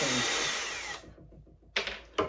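A Craftsman 20V cordless drill whirs loudly while removing screws and winds down, followed by two short bursts of the motor spinning up.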